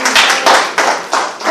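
An audience at a book launch breaks into applause. The clapping rises and falls in uneven surges and sounds close, with no voices over it.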